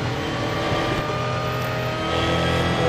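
Real Racing 3 race car pulling alongside to overtake, a continuous loud engine roar holding steady revs with layered engine tones from nearby cars, swelling slightly toward the end.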